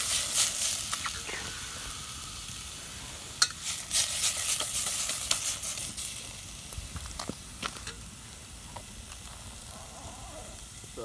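Steak being cooked in a pot over a campfire on a cold-weather camping trip, with a soft sizzle and scattered sharp crackles and scrapes that fade as the clip goes on, while a voice talks in the background.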